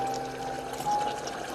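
Hot rice water is poured off through a strainer in a brief, steady rush of liquid that runs without a break for a second or two over a low background hum.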